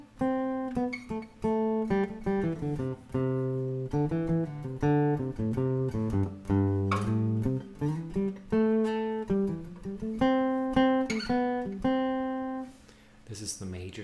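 Piano-like chords ring out in a steady sequence, sustained harmonic tones played as a demonstration of a major chord, with no voice over them and a soft fade near the end.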